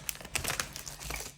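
Packaging is torn and crinkled off the box of the board game Les légendes du bout du monde, in a brief run of quiet, close crackles and rustles.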